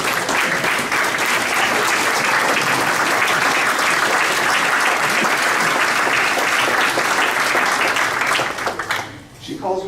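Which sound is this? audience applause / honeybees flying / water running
audience applause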